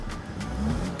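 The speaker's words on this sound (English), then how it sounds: "let me just accelerate." Mercedes Sprinter van accelerating in race mode with a Shiftpower throttle upgrade, a short low engine drone that rises slightly in pitch, heard from inside the cab.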